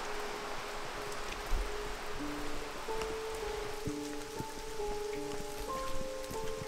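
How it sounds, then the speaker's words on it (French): Heavy rain falling at an abandoned water park: a soft, steady hiss of drops on surfaces, fairly faint and constant, with a few scattered louder drips and thin tonal hums under it. "il commence à vraiment pleuvoir beaucoup"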